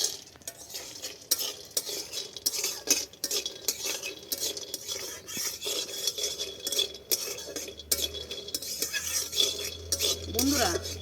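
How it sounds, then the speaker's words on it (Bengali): Bori lentil dumplings frying in oil in a pan, a quiet sizzle under repeated metal spatula scrapes and clinks against the pan, close and irregular throughout. "দিয়ে বড়িটা আমি ভেজে নেব।"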